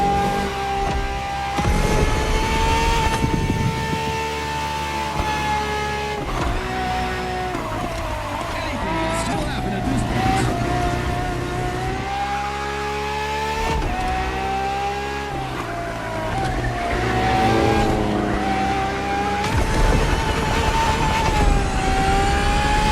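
A Ferrari FXXK racing car drives in a video game, its engine droning steadily as the pitch rises and falls through gear changes and corners, loud and close, with a voice narrating over it.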